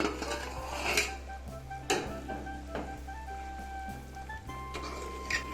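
A metal lid is lifted off a pot of simmering chicken gravy, giving a few close clanks and scrapes of metal against metal over a low steady hum.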